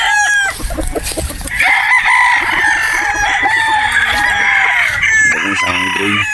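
A bulik gamecock crows loudly and close at a game farm in Batangas, one long drawn-out call with other fowl clucking and calling around it.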